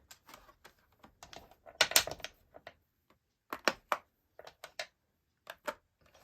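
Light wooden clicks and taps in irregular bursts, like pencils being dropped one by one into a metal tin, close and quiet with pauses between.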